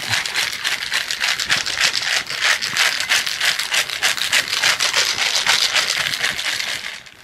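Vigorous, fast rattling of ice in a cocktail shaker, a steady run of sharp clattering hits lasting several seconds.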